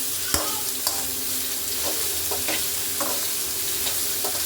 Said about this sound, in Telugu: ఓకే, బీరకాయ ముక్కలు వేసేద్దాం